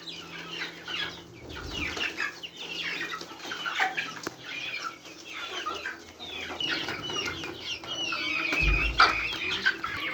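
Healthy, active hens on a poultry farm in Pakistan, clucking continuously in an overlapping flock chorus, close and moderately loud, with a few sharper calls and some shuffling thumps.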